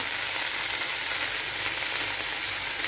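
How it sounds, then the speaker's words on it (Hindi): Cabbage, capsicum and carrot frying with onions in a pan give off a steady, even sizzle that carries on unbroken at close range, with no voices over it. "इसको मैं डाल दूँगी प्याज के अंदर इसको हम हल्का सा फ्राई करेंगे"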